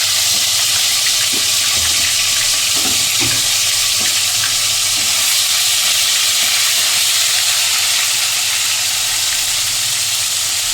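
Ginger garlic paste hits a hot pan of oil and cumin for chilli paneer, giving a loud, steady sizzle and steamy hiss that runs unbroken throughout.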